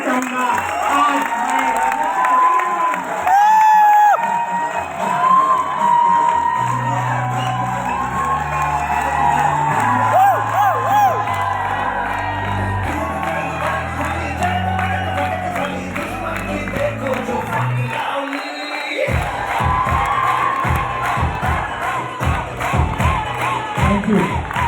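A large crowd at an event in Jaipur cheers, whoops and applauds loudly and continuously, with shouting voices and music mixed into the roar throughout.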